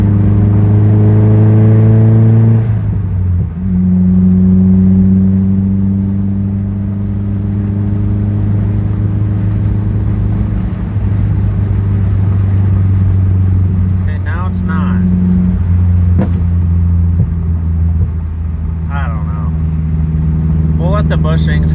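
A car on the road with suspension tension rod bushing work, engine droning steadily and rising in pitch as it accelerates and shifts, loud and continuous with someone talking over it.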